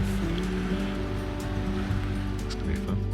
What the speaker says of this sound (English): It's a bit of a driving rain across the bottom there.